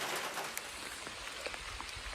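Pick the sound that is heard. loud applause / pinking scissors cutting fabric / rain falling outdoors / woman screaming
rain falling outdoors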